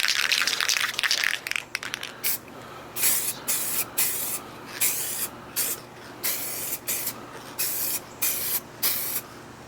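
A spray can lays a light first coat of paint on a clear Lexan RC car body in short, hissing bursts with brief gaps between them, after a longer opening spray. The rattle of the can is heard close by.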